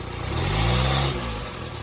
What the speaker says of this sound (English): Still backfiring.